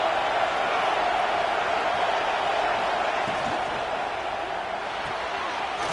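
Stadium crowd at a football game on a big third-down defensive stand, a steady, loud roar of cheering sustained throughout without letup.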